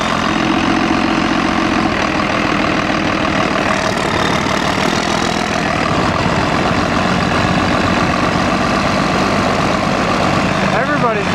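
Cummins-powered Banshee sandrail buggy engine running steadily as a loud, continuous heavy rumble that stays close and constant throughout.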